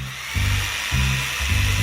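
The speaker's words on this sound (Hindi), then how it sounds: "इसके लिए मुझे कुछ बोर्ड और एक आरी चाहिए।" A saw cuts through wooden boards in repeated rhythmic strokes, each stroke a loud rasping pass, close and alone without talk.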